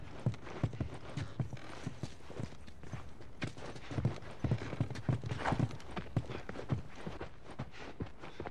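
Horse hooves clip-clop in The Last of Us on PS3, a steady walking rhythm of close, moderately loud hoofbeats with occasional faint snorts and no talking over them.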